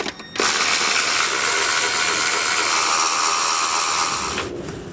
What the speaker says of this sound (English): So I'll remove these three 8mm bolts. And now the three 10mm bolts on the throttle body.